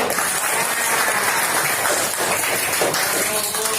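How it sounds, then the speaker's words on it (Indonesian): Children applauding a primary-school pupil in a classroom where a soldier is teaching, a steady, close, loud burst of many hands clapping throughout. "Bagus, tepuk tangan dulu"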